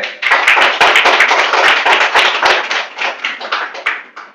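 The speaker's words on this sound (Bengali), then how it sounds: "সবাই একটা হাতে করতালি দিয়ে সুন্দর করে" An audience at a commemoration day for renowned painters applauds, with a dense, loud, close patter of many hand claps that holds steady and then thins slightly toward the end.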